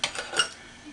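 A blender cup is picked up among dishes while making flan de queso in a kitchen: a few quick, close clinks and clatters of crockery and utensils within about a second, fading into quiet room tone.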